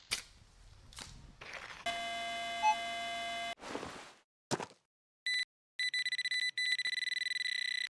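A metal detector sounds electronic tones while someone digs for coins and relics in the ground: a long steady buzzing tone, then short broken bursts of higher beeps, close and fairly loud.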